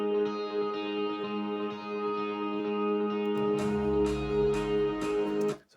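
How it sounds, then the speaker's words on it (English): Soloed electric guitar part played through a rolling delay, sustained chord tones repeating in a steady echoing wash, with a deeper low-end swell joining partway through before cutting off at the end. "So it's kind of a rolling delay part."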